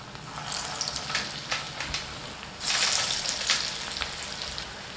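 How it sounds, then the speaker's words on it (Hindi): Grated bottle gourd kofta balls drop one by one into hot oil on a low-to-medium flame, giving a close, steady crackling sizzle with bubbly bursts that swell louder midway. "तेल हमारा गर्म हो चुका है, बहुत ज़्यादा धुआं आने लगे वैसा गर्म ना करें, फ्लेम को लो टू मीडियम रखें और एक एक करके हम कोफ्ता को डालेंगे।"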